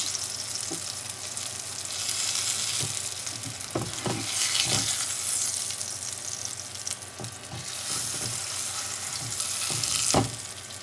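Salmon fillets fry in oil in a pan with a continuous close sizzle, broken by scattered clicks and scrapes as a spatula works around them.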